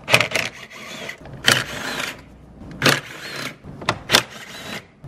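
T30 Torx bolts are loosened from the valve cover of a BMW M54 engine, with several short ratcheting or driver bursts spaced irregularly, close and fairly loud, no talking.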